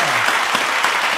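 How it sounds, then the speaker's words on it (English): High school seniors break into a short, loud round of applause, the claps packed into a continuous crackle close at hand. "Give yourselves a big round of applause"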